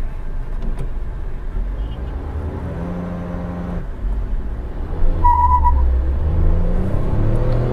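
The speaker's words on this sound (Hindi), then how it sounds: "फर्स्ट गियर 6000 आरपीएम एंड 50 की स्पीड अटेन कर रही है फर्स्ट गियर में" A 2022 Tata Nexon XZ+ manual petrol car pulling hard in first gear toward 6000 rpm, a steady loud engine drone and road rumble rising in pitch, heard from inside the cabin.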